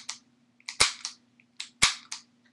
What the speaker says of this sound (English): It will just make a clicking sound like this.